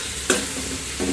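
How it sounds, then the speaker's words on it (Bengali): Half-boiled yardlong beans fry in hot oil with a steady close sizzle, broken by a single sharp clatter of a utensil against the pan near the start. "তেলে ভাজা ভাজা করবো আর কি।"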